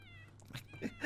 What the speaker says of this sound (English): there's like 4 cats in his kitchen